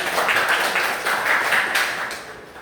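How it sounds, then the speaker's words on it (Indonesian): Students in a classroom clap for a presenting group, a short, fairly close patter of hands that swells and then tapers off within a few seconds. "Tepuk tangan untuk kelompok"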